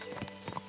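Horse hooves clip-clopping in the medieval video game Kingdom Come: Deliverance 2, a few soft, uneven hoof strikes at low level, with a brief whinny-like tone near the end.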